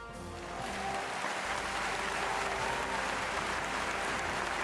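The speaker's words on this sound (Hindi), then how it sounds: "बहुत सारी तालियां नादिया अख्तर के लिए।" An award show audience breaks into steady, dense applause that swells within the first second and then holds evenly, a continuous wash of many hands clapping filling the hall.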